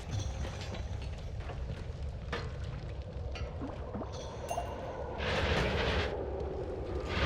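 Explosions in the video game Noita, a rumbling series of bursts and crackles with scattered sharper pops, swelling into a louder hissing roar near the end.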